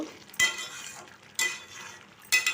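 Ridge gourd curry being stirred in a pan, three distinct scraping strokes of a utensil spaced about a second apart over a soft continuous sizzle, close and clear with no voices.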